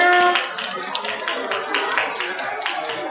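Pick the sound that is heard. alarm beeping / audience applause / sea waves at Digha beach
audience applause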